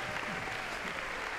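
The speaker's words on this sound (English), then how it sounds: "about a round of applause for Dan Fairbanks" A university freshman convocation audience gives a brief burst of dense clapping for a sculptor's live demonstration, loud and filling the whole moment.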